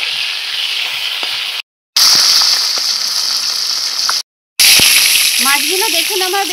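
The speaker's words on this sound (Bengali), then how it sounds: "আমার বেশ লাল করে ভাজা হয়ে গেছে" Rohu fish pieces frying in hot oil, browned to a deep red, give a steady loud sizzle with two brief dropouts and a few faint clinks and scrapes near the end.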